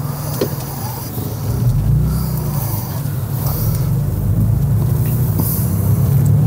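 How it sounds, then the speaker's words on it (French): A BMW Z3 Coupé with a 2.8-litre six-cylinder engine pulls away, its low, steady rumble swelling gradually and holding loud and near throughout. "déjà la sonorité c'est incroyable sur les BMW"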